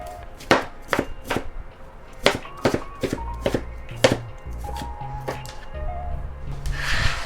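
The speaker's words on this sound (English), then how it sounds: "Chop that onion." A sharp kitchen knife chops an onion on a cutting board with a brisk, uneven run of close, loud knocks and taps, about a dozen strikes with short pauses between them.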